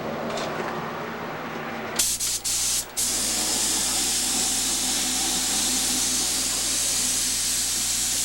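A spray can blasts copper oxide solution onto raku pottery, a steady close hiss that starts abruptly, stutters briefly and then runs continuously over low background hum.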